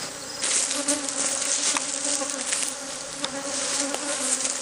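A dense swarm of honeybees buzzes loudly and continuously close by at an aggressive hive, a steady droning hum with individual insects whizzing past.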